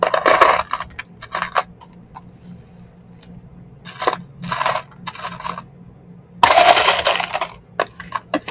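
Small pieces of craft glass being handled at a glue project, producing several separate bursts of clinking and scraping with quiet gaps between, close and fairly loud.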